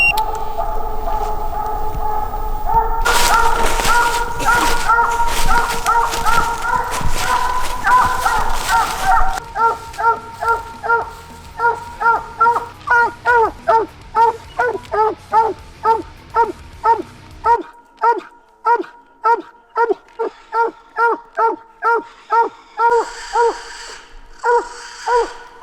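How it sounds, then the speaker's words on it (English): A coonhound tree dog barks at a den tree during a hunt, giving a steady, rapid string of loud, rhythmic barks that continue on and on, with some rougher noise and possible voices early on. "He's a nice tree dog"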